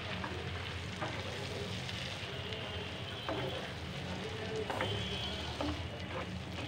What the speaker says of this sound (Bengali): টমেটোটাকে কষিয়ে নিব